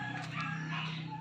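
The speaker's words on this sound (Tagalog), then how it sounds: "So may mga alaga rin kami dito na, ayan o, ibon." Pet birds call in chicken-like clucking tones, close and moderately loud over a steady low hum.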